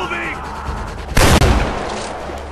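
Gunfire in the video game Far Cry 4, a sudden loud burst of shots in the middle, over steady game ambience with a player talking.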